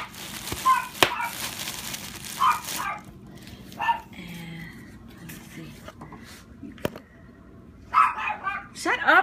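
A dog barks and yips in short, sharp bursts, some near and loud, scattered among indoor handling noises.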